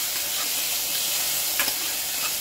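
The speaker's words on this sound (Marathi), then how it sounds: "हलकं फिरवून घ्या।" Potatoes stirred with ginger garlic paste in a hot pan for masala khichdi, a steady sizzling hiss with a few faint scraping stirs near the middle, no talk.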